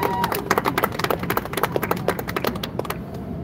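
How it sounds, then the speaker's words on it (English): Audience applause at a Bangladeshi community campaign event for a mayoral candidate, dense overlapping claps that hold steady and fade toward the end, alone with no talk. "Please give him a big round of applause first."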